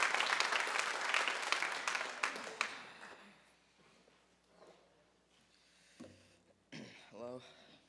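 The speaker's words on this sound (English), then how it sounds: "give them a round of applause, Keegan Nadal and Shannon Hughes." In a church service, the congregation gives a burst of applause that fades away within a few seconds, followed by a quiet pause and then a voice speaking.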